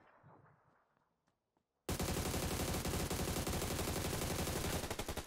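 An AUG assault rifle in PUBG Lite fires one long, unbroken full-auto spray of rapid, evenly spaced, loud shots after a quiet start.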